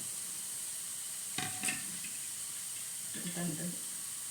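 Softened onion sizzles in a pan as crushed chilli goes in, for a kovakka and potato mezhukkupuratti; a constant hiss carries two brief bursts of stirring or a voice-like murmur.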